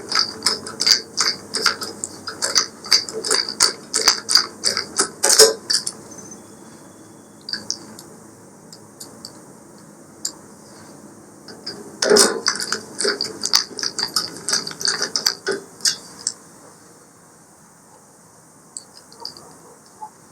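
Ratchet clicking in quick bursts while bolts are tightened during assembly of a 22-inch Blackstone griddle with hood and flexfold legs, close and fairly loud, with short pauses between runs.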